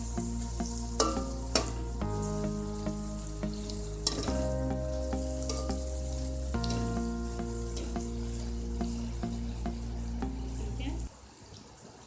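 Okra is stirred into masala in a hot pan, a loud steady sizzle with scraping spoon strokes and a sustained low hum, cutting off abruptly near the end, with brief talk underneath.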